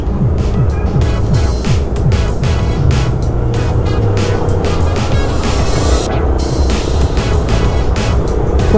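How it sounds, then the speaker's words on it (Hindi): A new Yamaha R15 motorcycle is ridden along a road: continuous engine drone mixed with heavy wind rush, loud and close throughout. "तो नई नई बाइक आगे जा रही है"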